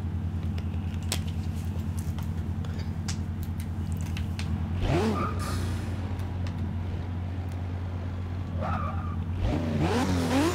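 A Toyota Supra drift build in Forza 6 idles with a steady low hum, then its engine revs hard twice in rising, sweeping bursts, along with brief mechanical clicks, and no talking.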